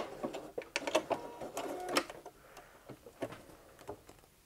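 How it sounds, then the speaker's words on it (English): A sewing machine backstitches a seam on a T-shirt, making quiet, irregular bursts of rapid clicking and rattling that start and stop as the stitch runs forward and back. "You should backstitch at the start and at the end of each line of sewing."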